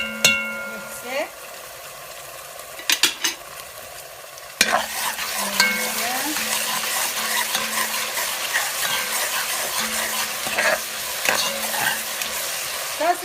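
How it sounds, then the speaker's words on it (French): Onions and garlic fry in a pan for a pilau while being stirred. A steady close sizzle runs throughout, broken by scraping stir strokes, with a voice briefly heard near the start. "On mélange les oignons. Je rajoute un peu d'ail."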